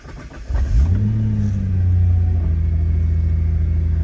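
A Nissan GT-R engine kicks in after a short pause, climbing in pitch as it revs and then settling into a steady, throaty idle rumble close by.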